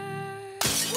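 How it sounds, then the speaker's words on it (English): A wine glass shatters with a sudden sharp crash that cuts through a steady tonal hum, followed by a bright, lingering spray of breaking glass. "You smashed a wine glass with your bare hands"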